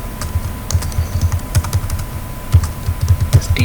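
Code being typed on a computer keyboard, close, quick, uneven clacking keystrokes in short bursts with no talking.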